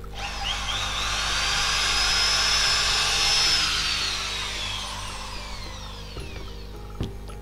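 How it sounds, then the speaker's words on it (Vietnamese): A Japanese domestic-market power drill runs in normal drilling mode, its motor whine rising, holding a smooth high pitch, then winding down, with a sharp click near the end. "Đổi chức năng khoan thường nè. Khoan thường cực kỳ êm ái luôn anh em."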